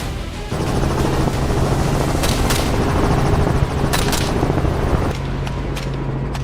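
A helicopter drones loudly and steadily during a wild boar hunt in Kenya's Rift Valley, with a few sharp gunshot cracks cutting through the rotor noise before it drops away.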